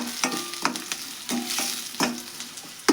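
Onion frying in hot oil for a spiced curry, a gentle sizzle broken by several sharp stirring scrapes and clinks at irregular intervals.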